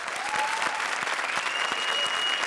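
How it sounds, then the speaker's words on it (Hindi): A studio audience at a comedy show claps loudly and steadily for the whole stretch, a dense, even patter of many hands close by. "जोरदार तालियां आफ्ताब और आमना के लिए।"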